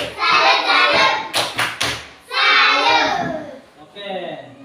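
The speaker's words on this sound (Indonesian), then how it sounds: "kita sama-sama memberikan tepuk salut untuk kelompok 2." A school class performs a rhythmic Indonesian salute clap for a presenting group, with children's voices chanting along and a burst of quick, sharp hand claps and thuds in the middle, close and loud.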